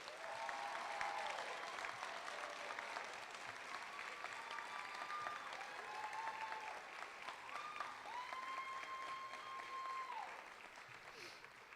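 Sustained audience applause at a university Hall of Fame induction ceremony, a steady wash of clapping from a large crowd lasting several seconds before tapering slightly, with faint tonal background sounds.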